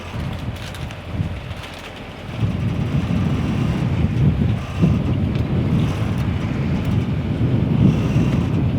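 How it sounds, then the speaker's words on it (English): Strong wind buffets the microphone outdoors at Monaco near a sailing spot, a loud, continuous low rumble with gusts that swell after a few seconds and stay heavy throughout. "There's wind."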